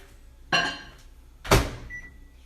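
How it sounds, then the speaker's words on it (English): A microwave oven heating keto cake mixture: two sharp clunks about a second apart, then a faint, steady electronic tone over a low hum, heard alone without talk. "Back into the microwave."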